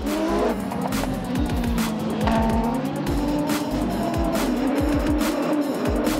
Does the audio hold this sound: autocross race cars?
yes